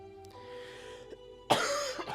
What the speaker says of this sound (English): I really am sorry for coughing so much